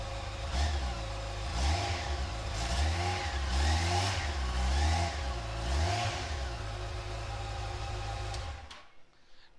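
A 2010 Yamaha FJR1300 ABS touring motorcycle, 18,365 miles, idles loudly up close and is blipped through several rhythmic throttle revs that rise and fall, before the engine cuts off near the end.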